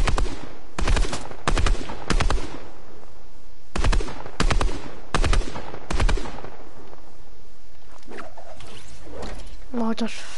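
Loud bursts of rapid gunfire from a Fortnite battle royale solo match come in several short volleys, separated by brief pauses, and then fade into quieter game sounds and a voice.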